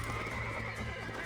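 A horse neighs in the video game Red Dead Redemption 2, a brief whinny over a dense layer of game ambience and hoof sounds.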